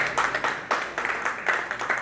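A banquet audience at an awards night claps together in a steady, moderately loud round of applause, with distinct clustered bursts of hands repeating throughout.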